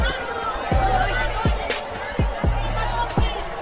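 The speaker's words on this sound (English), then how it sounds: "Some rumblings in the crowd." Boxing crowd murmuring and rumbling in an arena after a knockdown, a steady busy babble with regular low thumps, heard beneath a commentator's voice.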